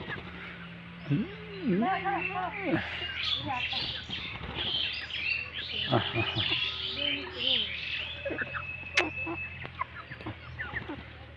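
A pet myna bird gives a string of varied whistles, chirps and squawking calls, close by, with people talking and other birds chirping around it.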